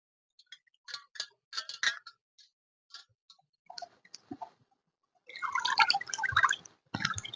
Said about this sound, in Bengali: মাছটা এইভাবে ভালো করে ধুয়ে নেব